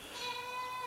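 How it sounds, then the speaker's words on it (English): Goats bleating nearby during an outdoor barbecue cook, one short, wavering, nasal bleat heard alone. "we got goats over there too making noise"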